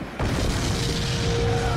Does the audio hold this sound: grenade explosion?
yes